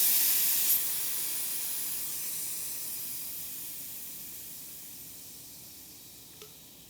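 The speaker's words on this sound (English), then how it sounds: "we gotta let all the air out of the tire." Air hissing steadily out of a bicycle tire valve, a loud continuous close-up hiss that slowly fades as the tire deflates, with no other sounds.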